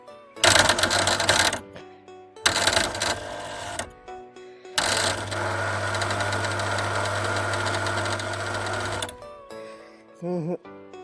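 An old electric water pump motor on a farm field runs on low voltage, a harsh mechanical buzzing and knocking that starts and stops in several bursts, the longest about four seconds, with someone talking between them.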